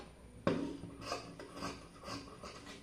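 Scissors cut through fabric for a sleeve of a child's crop top, giving a sharp snip followed by several soft rasping cutting strokes, close and quiet, with no talk.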